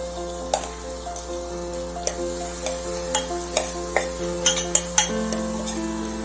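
A mushroom masala mixture goes into softened tomatoes in a pan and sizzles, while a spoon clinks and scrapes in an uneven rhythm over a steady hiss, close and fairly loud.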